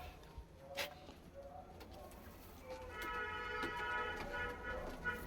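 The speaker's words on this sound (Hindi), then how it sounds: "एक कबूतर ये है भाई," Punjabi Ludhiana pigeons coo nearby in soft, repeated throaty calls, some overlapping, over a faint background hum, with a voice briefly audible.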